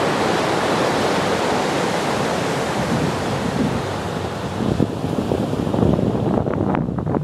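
Ocean waves on the beach at Port Ouest, Réunion, a continuous broad wash of surf with wind noise on the microphone, and a few sharper breaking and splashing bursts near the end.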